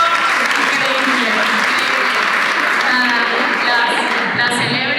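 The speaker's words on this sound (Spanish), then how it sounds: "doble aplauso" A conference audience at a talk on the poetics of materials claps in sustained, dense applause, loud and close, with a voice faintly over it.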